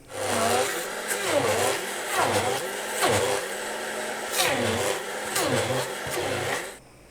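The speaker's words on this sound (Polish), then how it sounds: "Pół kilograma twarogu tłustego zmielić za pomocą blendera, końcówki takiej blendującej w mikserze." A motorized blender grinds fatty quark cheese in repeated pulses, its whine rising and dipping with each burst, fairly loud and close, stopping abruptly near the end.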